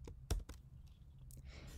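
A few faint, isolated key clicks tap on a computer keyboard in a quiet room, sparse and irregular, with one slightly sharper keystroke near the start.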